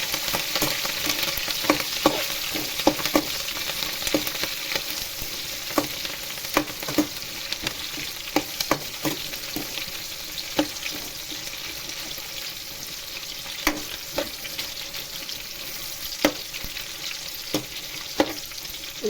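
Ingredients for tomato pachadi dry fry in a pan while being stirred. A steady, close crackling sizzle runs throughout, with repeated sharp scrapes and clicks of the spoon against the pan and no talking.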